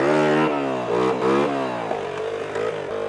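A motorcycle engine revs hard for a wheelie attempt, rising and falling in a series of quick throttle blips and climbing pitches, loud and close with no talking.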